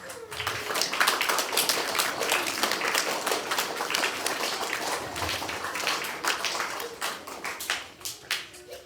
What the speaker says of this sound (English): one big round of applause while they go back to these kids